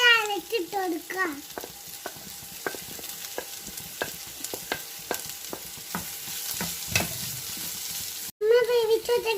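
Cut potatoes and carrots for samosa filling fry in a pan with steady sizzling, while a spoon scrapes and stirs in regular knocks; brief voice-like tones sound at the start and end.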